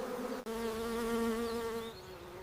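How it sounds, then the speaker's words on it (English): Worker honeybees leaving the hive make a steady, close, droning buzz with a strong harmonic hum. The tone is continuous and wavers slightly, with one brief dropout near the start. "millions of worker bees leave the hive."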